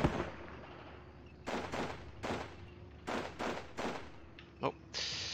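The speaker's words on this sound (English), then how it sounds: "Let's use the MP40 to shoot at this guy's." MP40 submachine gun bursts in a squad-based war video game, several short sharp rattling volleys with gaps between them, close and loud over a low steady background hum.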